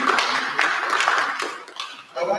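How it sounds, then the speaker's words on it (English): An audience claps for the Honorable Minister at the launch of a science innovation awards pitching process, a dense patter of applause lasting a couple of seconds with a brief dip before picking up again. "let's clap for the Honorable Minister for blessing our day"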